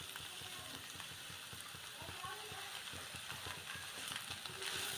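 Tomatoes hit a hot frying pan while sweetcorn chevdo cooks, giving a steady, dense sizzle with busy crackling and spitting that holds at moderate loudness throughout.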